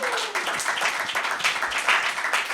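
A pageant audience applauds a judge being introduced: dense, steady clapping from a crowd fills the whole stretch at an even loudness.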